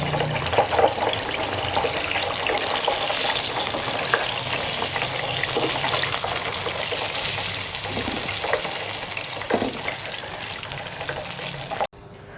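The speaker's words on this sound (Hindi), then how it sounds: "चिकन हमारा ब्राउन हो चुका है, ये देखिए फ्राई हो गया है" Chicken pieces coated in crumbs for a zinger burger fry in hot oil with a steady, close sizzle and occasional stirring clinks, ending abruptly.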